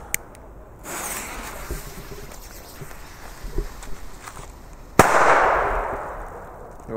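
A Panda Booster D firecracker goes off outdoors with a sharp, loud single bang, followed by a hissing, crackling tail and quieter ambient noise before and after.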